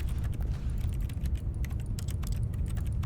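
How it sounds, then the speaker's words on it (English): Typing from the video game The Stanley Parable: rapid, steady keyboard clatter, close and continuous for a few seconds with no voices. "I'm clicking my mouse, but I hear typing"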